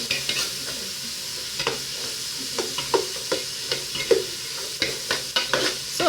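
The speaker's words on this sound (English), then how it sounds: "after frying it for some minutes" Fish fried rice frying in a pan, with a steady sizzle broken by repeated scraping and stirring strokes from a spatula, close and fairly loud, with no talking.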